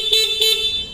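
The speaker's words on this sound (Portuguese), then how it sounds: "Posso buzinar aqui rapidinho, gente?" Horn on a Shineray motorcycle at a factory store, two short loud bright honks close up in quick succession, alone without talk.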